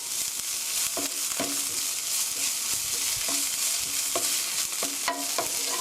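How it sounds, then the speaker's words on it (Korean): Onions seasoned with salt and black pepper are stirred in a hot frying pan, a soft steady sizzle broken by repeated scraping and knocking strokes of a spatula against the pan. "고루 섞어주세요."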